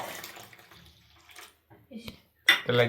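Hot water splashes into a pot of snails with a short metallic clatter of cookware, the pouring surging loud and close at the end after quieter kitchen noises, with a voice speaking earlier.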